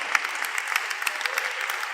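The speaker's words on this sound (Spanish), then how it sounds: "Dele un fuerte aplauso al Señor." Church congregation clapping, a dense burst of many hands applauding at close range, steady and lively for a couple of seconds.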